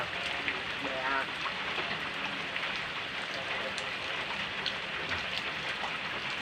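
Steady rain falls outdoors in a dense, even hiss that stays constant from start to finish with no breaks or gusts.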